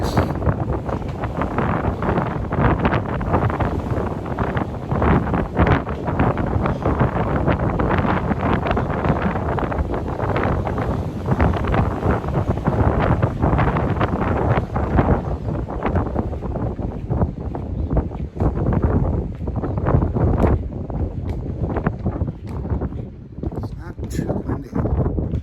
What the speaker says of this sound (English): Sometimes the front of the ship it's super windy.